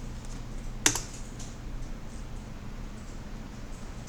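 A single sharp keypress, an Enter key struck on a computer keyboard, stands out once against a steady low background hum, close and fairly crisp.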